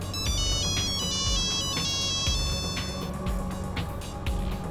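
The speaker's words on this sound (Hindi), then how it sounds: "अचानक एनी के शौहर का फोन आ गया" A phone ringtone plays continuously, a bright repeating melodic tone pattern with steady rhythmic beats underneath, loud and close with no talking.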